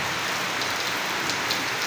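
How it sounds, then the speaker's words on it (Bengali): Heavy downpour pours steadily near a pigeon loft, a loud, unbroken hiss of rain striking surfaces with scattered louder drops and no voices. "একবারে ঝুম বৃষ্টি"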